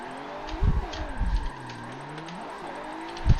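Forza Motorsport 7 car drifting sideways through bends, heard as a steady engine drone with rising and falling revs and faint tyre noise, a louder burst near the start and another at the end.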